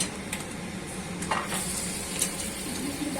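Carrots stir-fried in a pan over a high flame, a steady broadband sizzle with scraping stirs and occasional utensil clinks against the pan, close and continuous throughout.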